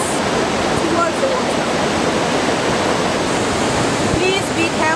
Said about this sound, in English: Show them, if you can show them like this waterfall.